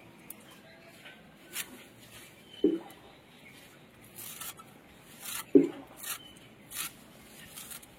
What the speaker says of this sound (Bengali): এই ধনেপাতাগুলো কুচিয়ে নেবো।